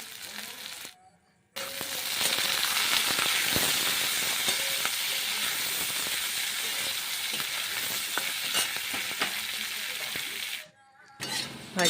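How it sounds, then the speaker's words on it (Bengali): Carrots and beans fry in a pan, a continuous close sizzle with clinks and scrapes of stirring that runs for most of the stretch before dropping away near the end. "গাজর ও বিনস ভাজা হয়ে গেছে এবার তুলে নেব"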